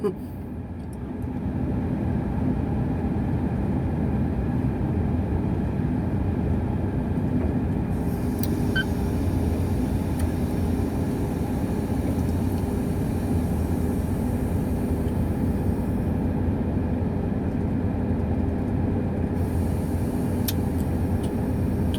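A 25-ton crane truck raises its boom and swings while lifting a steel pole, giving a steady, loud, droning engine and hydraulic rumble that runs unbroken throughout, with a few faint higher ticks.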